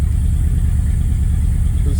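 A classic car, a Monarch being made roadworthy after brake fluid work, its engine running with a steady, loud low rumble and slight revving as the brakes are locked up; no talking.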